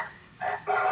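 A novelty multi-sound car horn plays a rooster or chicken call: two short squawking tones that rise in loudness, the second louder and held to the end, with no talking.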